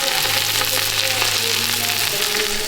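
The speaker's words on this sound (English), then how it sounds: "You can probably hear the meat sizzling in the background." Meat sizzles and fries loudly in a pan, a dense, continuous crackling hiss close by with a low hum underneath, and no one talking.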